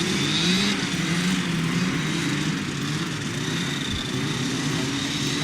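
Formula 50 race boat powered by an air-cooled twin-cylinder Rotax 503 engine of 50 horsepower, racing on a lake, gives a steady loud buzzing drone that holds throughout with slight pitch wavering and no talk.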